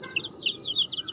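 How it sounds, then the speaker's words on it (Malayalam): Hens cluck in a few short, close calls at moderate volume, steady throughout with no talking over them. "ഇത് പിടക്കോഴിക്കളാട്ടോ"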